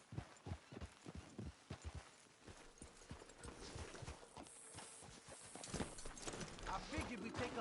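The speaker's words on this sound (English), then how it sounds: "Let's leave the horses off the road to the right here." Horses' hooves clip-clop at a walk along a dirt road in the video game Red Dead Redemption 2, with irregular thuds running through the clip while people talk over them.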